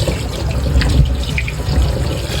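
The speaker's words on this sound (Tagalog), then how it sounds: "Akin na po pala munang huhugasan po itong karne." Pork meat for pork chops is washed under a running kitchen tap, a steady close splashing gush of water with brief bursts as the meat moves through the stream.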